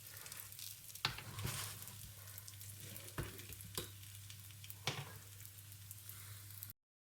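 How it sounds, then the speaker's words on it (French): A breaded cordon bleu sizzles steadily as it shallow-fries in a little oil in a pan. Several sharper crackles and pops rise over the constant frying hiss, and there is no talk. "je vais faire revenir une petite minute et toutes les minutes, je vais le retourner"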